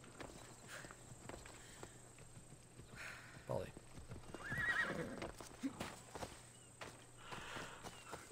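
A horse in the Assassin's Creed Odyssey video game whinnies loudly in the middle, with clip-clop hoofbeats before and after against a steady game-world background hum.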